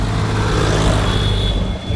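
Heavy road traffic on a forest-area route toward Medaram, mostly cars, rumbles loudly and continuously with engines droning close by and no break in the flow.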